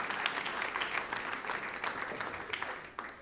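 A church congregation claps in steady applause for a few seconds, a dense, moderately loud patter of many hands with no voices over it.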